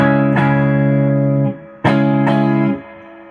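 A PRS electric guitar with Seymour Duncan Custom Custom and 57/08 pickups, played clean on the neck pickup and then the two blended, rings out in two sustained strummed chords, each with a sharp attack and a long ringing decay, with no voices.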